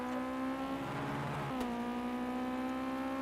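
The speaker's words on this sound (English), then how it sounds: "We're hearing Rowan absolutely bouncing all over the rev limiter there." A race car in a racing video game at Long Beach holds a steady high-pitched engine drone, bouncing on the rev limiter with a brief dip and pickup partway through, loud and constant with no talk.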